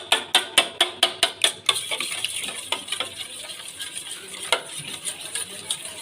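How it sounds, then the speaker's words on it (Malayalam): Eggs are whisked in a bowl for egg curry: a quick, even run of sharp clinks from the utensil against the bowl, then a looser, irregular stirring with scattered clicks, close and clear. "ഇതെല്ലാം കൂടെ മിക്സ് ചെയ്ത് ഒന്ന് നല്ലവണ്ണം കലക്കി എടുക്കുന്നു"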